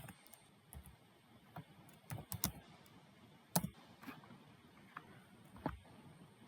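A computer keyboard is typed on quietly and unevenly as Docker commands are entered. The scattered soft key clicks sound close against a faint background hiss, and no one speaks.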